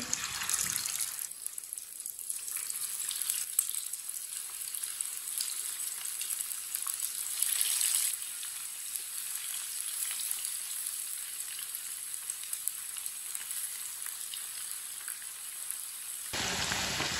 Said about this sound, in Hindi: ऑयल हमारा अच्छी तरह गर्म हो चुका है। अब इसमें चिकन डाल लेंगे फ्राई के लिए।